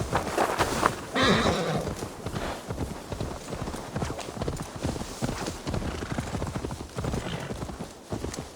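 Horse hooves clip-clopping at a steady walking rhythm in Assassin's Creed Valhalla, with an occasional whinny, fairly close and mixed with some game ambience.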